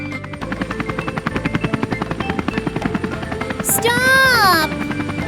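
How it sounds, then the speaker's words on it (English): A cartoon helicopter's spinning propellers thud in a fast, steady rhythmic chop, joined near the end by a rising whooshing whine as the rotor sound swells. "You can't go onto the platform until the helicopter's propellers have stopped spinning."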